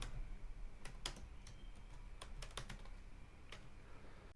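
Keys clack on a computer keyboard as a website name is typed in, a dozen or so sharp, irregular taps spread across a few seconds over a quiet room hiss, with no talking.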